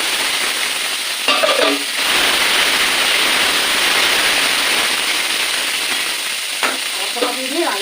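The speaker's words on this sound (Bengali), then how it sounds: "প্রথমে আমি আলুটাকে একটু ভেজে নেব" A steady, loud sizzle of potatoes frying fills the whole stretch, with brief scraping clinks of a utensil in the pan now and then.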